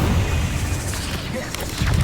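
A fiery spell blast from Hogwarts Legacy bursts with a dull boom and crackling rumble, brief and loud, mixed with game effects and a voice calling out.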